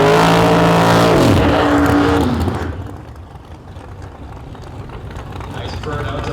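Drag racing cars at a Canada Heads Up Series event roar loudly through burnouts, engine pitch rising then dropping as a car pulls away, leaving a lower rumble; a commentator talks over the noise.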